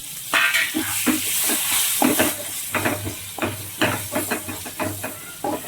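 Vegetables for Gujarati sambharo go into a hot pan and get stirred, bringing a steady sizzle with repeated scraping and clattering strokes of the spoon against the pan.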